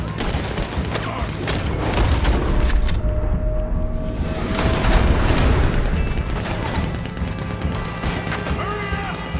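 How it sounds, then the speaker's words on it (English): Cannon fire and explosions in the video game Red Dead Redemption 2: rapid volleys of gunshots and heavy booms crash repeatedly through a battle, with voices shouting underneath. "This cannon gun's destroying everything!"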